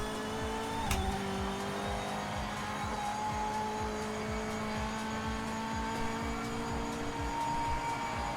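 A BMW race car in Project Motor Racing holds a steady, droning engine note with a sustained harmonic whine and a sharp click near the start, continuous and fairly loud with no talking.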